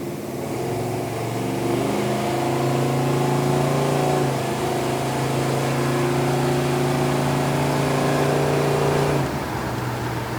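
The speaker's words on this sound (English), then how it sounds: "Okay, running through the gears here a little bit." A 1968 Plymouth GTX with a 440 V8 pulls through its gears, the engine note climbing steadily, dropping slightly at a shift and rising again, a continuous loud drone heard from inside the car, then easing off near the end.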